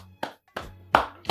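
Three separate hand claps ring out one after another, each a sharp, close, loud slap with a short decay into near silence, with no voices alongside.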